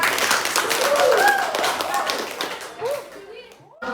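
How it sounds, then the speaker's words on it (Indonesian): A classroom of students claps for a group presenting, brief scattered applause with lively children's voices chattering over it, fading toward the end. "kita berikan aplaus untuk kelompok 4"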